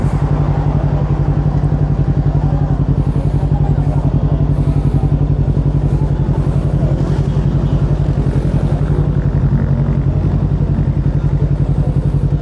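A motorcycle engine idles with a steady, throbbing low rumble, loud and close, at a nighttime riders' café stop in Tagaytay. Talk runs over the engine noise throughout.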